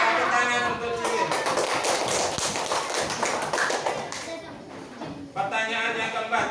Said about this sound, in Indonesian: Tepuk tangan untuk cincin.